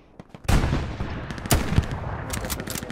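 Gunfire from the Hell Let Loose video game at Sainte-Marie-du-Mont: a sharp, loud shot cracks out, followed about a second later by another booming report, with rolling echoes and scattered distant pops trailing off.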